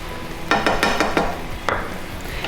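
Beef stir fry with soy sauce and chopped garlic sizzles steadily in a pan, broken by several quick scraping stirs and clinks of the utensil against the pan.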